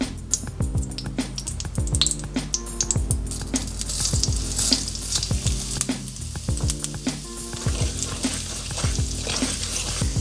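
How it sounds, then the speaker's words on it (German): Cumin seeds fry in about four tablespoons of hot ghee, a loud, steady sizzle with crackling pops and periodic stirring scrapes against the pan, close up and without talking. "Dafür brauchen wir erstmal 4 Esslöffel Ghee, in denen wir unseren Kreuzkümmel anbraten."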